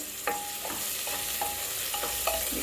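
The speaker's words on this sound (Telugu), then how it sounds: "ఆనియన్స్ అన్నిటిని ఫ్రై చేసుకోవాలి" Onions frying in oil for Telangana-style mutton curry or bagara rice, with a steady sizzle under repeated scraping stirs of a spoon against the pan, near and continuous with no talk.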